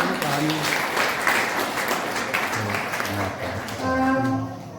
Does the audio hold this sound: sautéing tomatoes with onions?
no